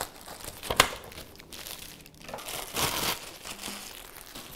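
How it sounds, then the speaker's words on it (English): Plastic packaging around a Sun Kettle solar water boiler is snipped and torn open, giving a few close crinkling and ripping bursts with brief quiet gaps between them. "We'll just snip this guy open."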